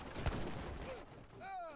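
Great bombards fire cannon shots in a video game battle: one sharp, fairly faint boom early on, then a whistling tone and a second brief thump at the end, all quiet overall.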